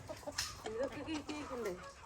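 Several chickens cluck near a coop, a string of short rising and falling calls close by, with a quiet background and a few soft knocks.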